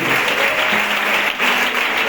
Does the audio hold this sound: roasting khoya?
no